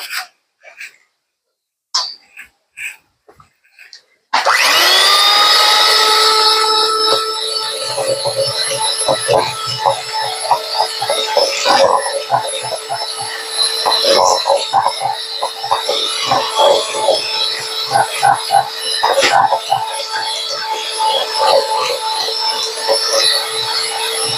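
A steady electric hand mixer whirs loudly as it beats coconut macaroon batter in a bowl, running continuously after a few brief knocks at the start, with occasional scraping against the bowl.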